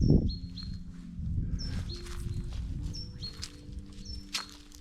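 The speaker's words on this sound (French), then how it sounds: "On entend les oiseaux." Birds sing and chirp in short repeated phrases along a misty mountain trail in the Vercors, fairly distant, over soft footsteps and rustling.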